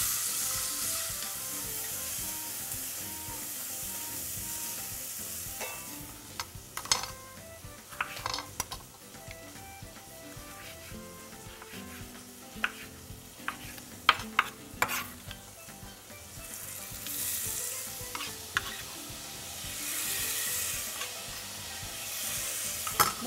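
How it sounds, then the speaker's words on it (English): Spices fry and sizzle steadily in a pot of oil for a dhal and seafood curry, with scattered clinks and scrapes of a utensil against the pot as they are stirred, moderately close with no talking. "You want your spices to cook a little bit, but you don't want them to burn."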